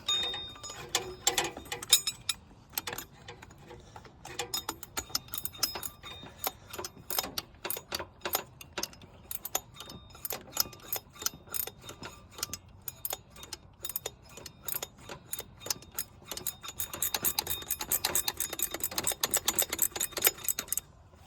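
Ratchet tightening bolts during a water pump replacement on a Honda CR-V, long runs of quick close clicking in bursts, sometimes dense, sometimes sparse, with no speech.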